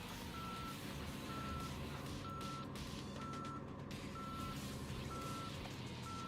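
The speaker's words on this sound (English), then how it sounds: "you hear the beeps when you're in reverse" Beeps from a reversing truck in a video game sound in a steady pulse, with about six evenly spaced tones over a continuous engine rumble and road noise and no voices.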